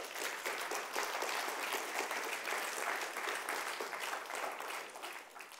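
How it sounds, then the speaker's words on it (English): Church congregation gives a round of hand claps, a dense, even patter of many hands filling the room at moderate volume, tapering slightly at the end, with no talk over it. "Can we give Jesus a hand clap for wanting to do that for us?"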